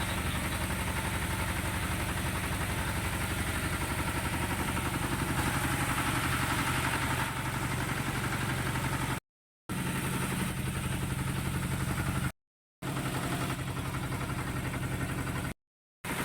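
A motorboat engine drones steadily as the boat approaches a beach, loud and constant with no voices, broken by a few short cuts of silence.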